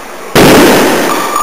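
Hydrogen and oxygen gas from an electrolyzer ignites inside a Ziploc bag with one sharp, very loud bang after a brief quiet moment, then a ringing decay.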